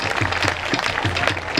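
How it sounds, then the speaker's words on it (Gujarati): An audience at a Gujarati folk music gathering claps steadily and loudly close by, a dense burst of applause with no voices heard. "એકવાર જોરદાર તાળીઓથી વધાવીએ આપણે."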